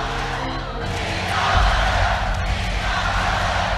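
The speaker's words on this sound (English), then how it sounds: "There's no other coach in League of Legends who can inspire a crowd to chant their name like that." A large esports arena crowd at a League of Legends event chants and roars in unison for a coach, a dense, loud, sustained wall of voices swelling midway with a rhythmic chanted pulse.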